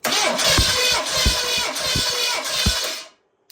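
An Oldsmobile 400 G big block engine cranks on a new starter with a fresh battery during a compression test, a loud rhythmic churning of about eight even pulses that stops abruptly after three seconds.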